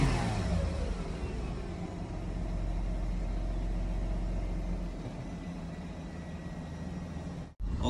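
A 2010 Mercedes C 300 engine with a misfire idles steadily up close, a continuous low rumble with a faint uneven pulse that runs for several seconds before briefly cutting out near the end.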